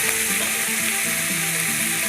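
Chicken giblets stir-fry with fish sauce in a pan: a loud, dense, continuous sizzle with the scrape of stirring, close up and with no talk.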